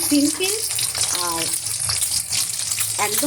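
Mustard oil sizzling in a wok, a steady hiss and crackle up close, while a voice speaks over it.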